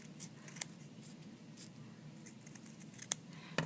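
Scissors cutting through felt for an embroidered sugar skull ornament, soft close snips and a few sharp clicks of the blades over a quiet room hum.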